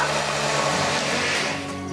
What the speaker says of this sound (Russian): Борщ в блендере.